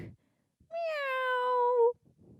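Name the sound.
person imitating a cat meow during kids yoga cat pose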